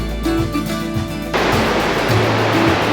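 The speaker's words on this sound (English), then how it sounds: "A little misty from the waterfall." Waterfall in Yoho National Park: a steady, loud broadband rush of falling water, dense and continuous, growing louder and fuller about halfway through, with a low rumble beneath and no talk.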